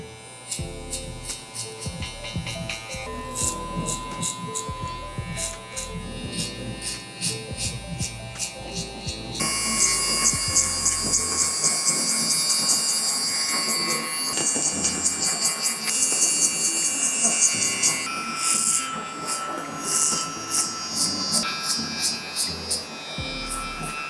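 Electric hair clipper with a 1.5 guard buzzing steadily while cutting hair in a barbershop taper haircut, a continuous close motor drone that grows louder and brighter partway through as the blade works through the hair.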